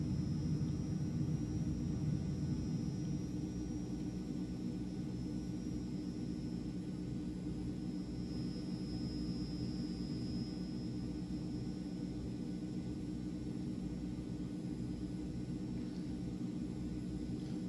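An RC model Transall C160 transport plane flies steadily through a continuous low engine drone and rumble, staying fairly even in loudness for the whole stretch with no voices.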